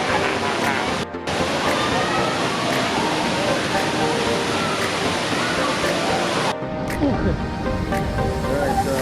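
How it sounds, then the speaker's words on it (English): Mother's Falls in Baler, Aurora, pours down with strong water pressure, a loud, close, unbroken roar of falling water, with voices faintly mixed in. "This is the Mother's Falls. The water pressure is so strong."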